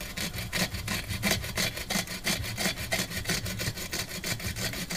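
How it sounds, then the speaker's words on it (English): A wire brush scrubs an aluminum evaporator's copper-to-aluminum joint on a Sub-Zero 424 refrigerator with quick, rhythmic rasping back-and-forth strokes, close and steady, with no voices. "First thing we need to do is we have to clean it with the wire brush."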